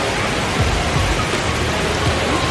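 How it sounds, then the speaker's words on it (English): Steady rain falls in an outdoor city setting at Christmas time, a dense, even hiss that fills the whole clip with no voices over it. "It's raining, so not really."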